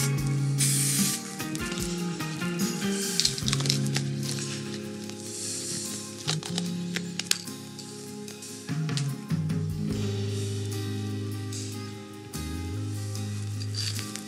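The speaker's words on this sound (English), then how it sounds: "This is the bit you're going to spray where it's got the black on it" An aerosol spray can hisses in repeated bursts close up, short sprays separated by brief pauses, as paint is sprayed onto a prosthetic arm.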